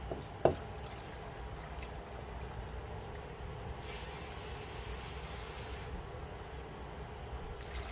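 Two cups of water poured into a slow cooker of Manhattan clam chowder with canned Rotel tomatoes: a faint, steady hissing pour lasting about two seconds, with no voices.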